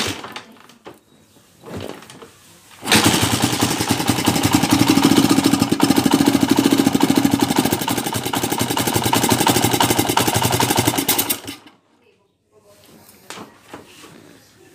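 A motorcycle engine under repair, camshaft and magneto timing being checked, roars loudly and steadily for about nine seconds with a rough, rattling knock, then cuts off abruptly into quiet.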